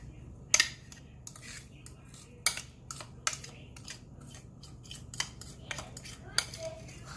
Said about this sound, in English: I'm just gonna get all of the butter out of the bowl.